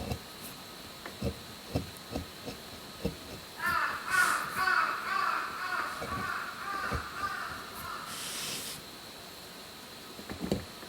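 Crows caw outdoors at a middle distance in a series of rough, repeated calls, while scattered knocks and quiet background sounds come from nearby.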